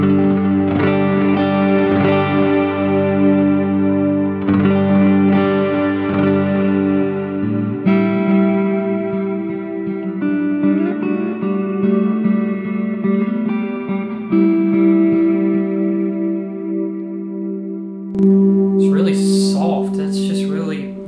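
Fender Stratocaster 70s reissue, made in Japan, played through a Voyager amp with reverb, delay and compressor, loud sustained chords and notes ringing with echo, followed by a brief rustle near the end.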